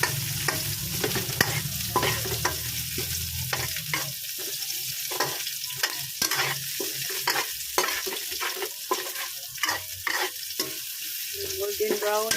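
Garlic and onion sauté in a hot pan with carrots nearby, a steady close sizzle broken by frequent scraping stirs of a utensil against the pan, with no voices.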